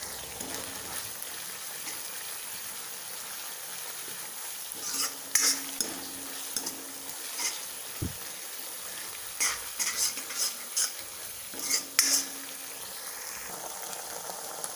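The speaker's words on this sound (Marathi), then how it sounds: "आपले जे सॉस घेतलेत ते मिक्स करते आणि लगेच कांदापात पण ॲड करते" A utensil scrapes and clinks around a pan in irregular strokes, mixing sauces and spring onion for dry gobi manchurian, with a soft sizzle underneath; no talking.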